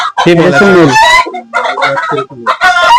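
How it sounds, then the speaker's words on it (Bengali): A seven-month-old Colombian Light Brahma rooster on a fancy poultry farm crows and clucks loudly and close, in a few strong bursts with short gaps between calls. "এটা হচ্ছে কলম্বিয়ান লাইট ব্রাহ্মা মোরগ"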